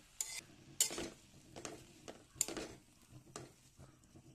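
Fenugreek leaves and soaked moong dal being stir-fried together in oil, a quiet sizzle broken by several sharp spatula scrapes and clinks against the pan at an uneven pace, close and fairly faint.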